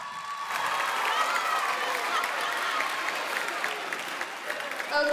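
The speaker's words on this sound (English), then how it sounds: "A round of applause" A crowd at a children's talent show finale applauds, with dense clapping and scattered cheering held at a steady level for several seconds.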